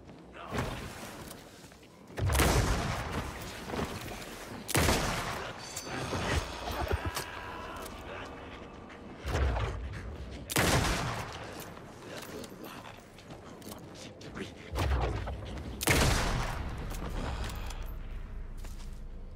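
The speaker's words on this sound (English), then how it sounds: "Three shots, three kills." Gunshots in the video game Alan Wake 2 ring out as heavy, booming blasts, about five or six spaced several seconds apart, each trailing off in a reverberant tail, with faint voices in between.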